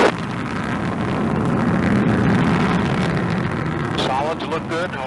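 Atlas rocket engines and solid boosters roar through the launch, a constant broad rumble that stays steady and loud while a voice talks over it near the end.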